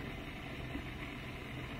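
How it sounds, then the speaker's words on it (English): A Bosch dishwasher running its wash cycle, water circulating and swishing inside the tub as a steady, faint, even wash with no voices. "So that's the water swooshing around."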